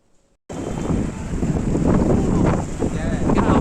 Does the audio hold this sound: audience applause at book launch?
no